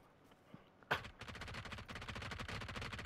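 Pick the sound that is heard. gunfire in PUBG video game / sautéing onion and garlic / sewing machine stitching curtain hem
gunfire in PUBG video game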